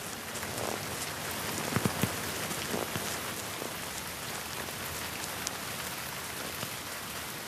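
Steady rain in the Drakensberg mountains patters densely and evenly on the ground and surfaces all around, with a few close drops landing distinctly, and no voices.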